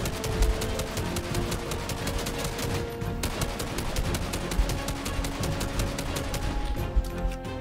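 Rapid automatic gunfire in the Fortnite video game, a dense stream of close, evenly spaced shots rattling almost continuously, with no voices.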